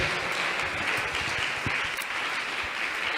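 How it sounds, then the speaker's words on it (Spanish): A church congregation applauds continuously during a sermon, a dense, steady wash of clapping that fills the room without distinct individual claps, with no speech standing out above it. "Adórale con otro aplauso a Él"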